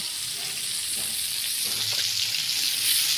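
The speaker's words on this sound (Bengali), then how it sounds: "আজকে আমি মাছ ফ্রাই করবো" Fish sizzles loudly in hot oil, fried Pakistani style outdoors, with a dense, steady crackling hiss and faint stirring underneath.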